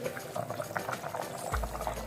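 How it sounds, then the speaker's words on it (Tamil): Seeraga samba chicken biryani liquid boils vigorously in a lidded pot, a steady, dense bubbling that stays even throughout, with no voices. "நல்லா தளதளான்னு கொதிச்சிருச்சு"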